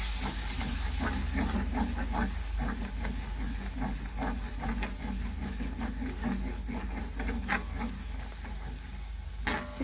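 Fresh malai (cream) frying with fenugreek in a pan gives a steady, close sizzling hiss scattered with small crackles and pops, with no talking.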